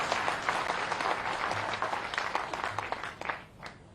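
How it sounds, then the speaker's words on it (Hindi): An audience at a BJP political rally clapping, a dense wash of applause from a large crowd that holds steady for a few seconds, then thins and fades toward the end. "फिर ताली बजाएंगे"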